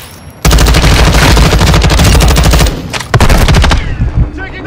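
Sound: gunfire in Call of Duty: Warzone 2 video game

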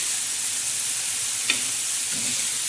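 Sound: stirring fenugreek leaf sabzi with onion, tomato and chilies

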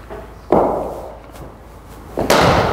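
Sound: cricket bat hitting ball

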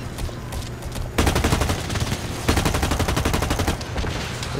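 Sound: gunfire from a gun in the video game BlackLight

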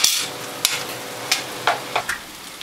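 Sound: stirring butternut squash soup with potatoes and carrots in pot

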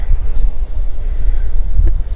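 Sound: wind blowing outdoors in a village field

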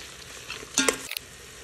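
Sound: frying vegetables with coconut and mint for pulav

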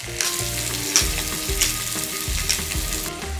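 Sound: mackerel fish sizzling while frying in a pan

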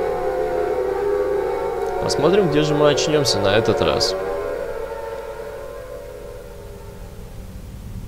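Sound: siren wailing in a video game

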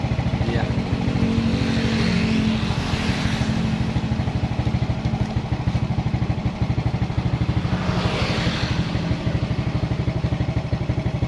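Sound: Suzuki Smash motorcycle engine sputtering when revved

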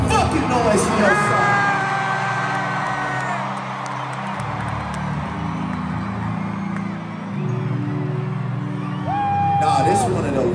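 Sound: crowd cheering at a concert in Buffalo

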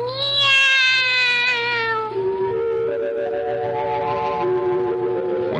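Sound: cat meowing

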